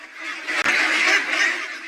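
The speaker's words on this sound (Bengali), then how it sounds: "এটি পেকিন বা সাদা পেকিন গৃহপালিত হাঁসের একটি প্রজাতি" A short, loud nasal honking call from a white Pekin duck, repeated twice in quick succession with a brief break between, close up.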